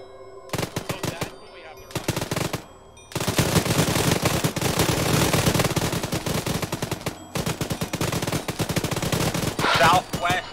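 Dense automatic and single gunfire from an Arma 3 firefight, loud and sustained with rapid crackling bursts, brief pauses between volleys, and a short lull near the start.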